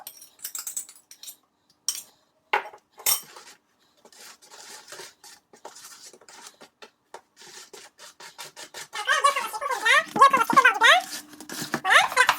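A wooden spoon scrapes batter from the bottom of a dish in short irregular rubs and scratches, close and fairly loud, with clinking against the dish. A voice talks over it.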